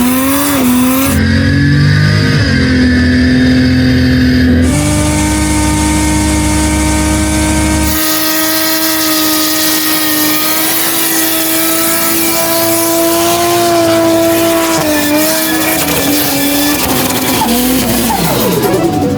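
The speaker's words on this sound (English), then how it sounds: "victory burnouts are in order." Car doing victory burnouts after a street race, its engine revving hard and holding high rpm with gear changes while tires squeal continuously, loud and close.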